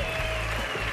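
Audience applause for the losing contestants on a Spanish TV game show, a steady wash of clapping filling the one-second span with no let-up.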